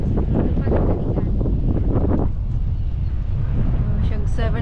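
Wind blowing at Pompano Beach, a loud, continuous rumble of gusts buffeting the microphone, with a voice talking over it early on.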